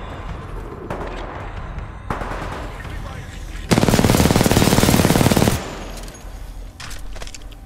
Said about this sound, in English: Someone's shooting me from up there, man.